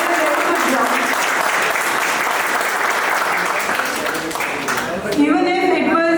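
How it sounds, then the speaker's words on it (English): A roomful of people claps steadily at a student batch induction ceremony, a thick even wash of applause that thins near the end as a voice begins speaking. "Please clap, everyone."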